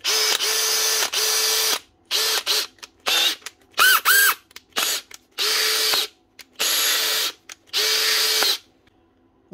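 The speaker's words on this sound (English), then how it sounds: "One Makita drill with a new chuck and a new stator. DHP459." A repaired Makita DHP459 cordless drill, fitted with a new chuck and a new stator, whirs in about nine short bursts with brief speed changes and pauses between them, close and loud.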